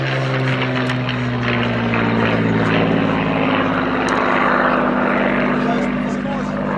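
A Merlin-engined Spitfire Mark 9 flies at an air show, its piston engine a loud, steady droning roar with harmonic tones throughout, heard from a moderate distance.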